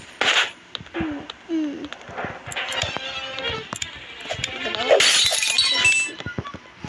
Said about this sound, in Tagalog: Nabasag ko yung wine yan.